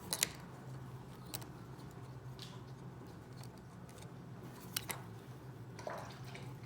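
Soft wet lapping and occasional drips from a dog drinking from its water bowl, quiet and close, with a low steady background hum and no talking.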